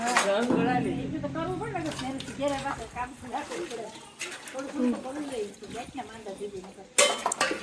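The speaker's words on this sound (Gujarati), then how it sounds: "તો એ બે ઠામ ઉટકે છે" Two women scrub and wash dishes at home, metal pots and utensils clinking and scraping under ongoing nearby talk, with a louder clatter near the end.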